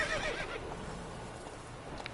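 Roach the horse in Witcher 3: Wild Hunt lets out a short whinny at the start, followed by soft hoof clip-clops over a low background, fairly quiet and brief.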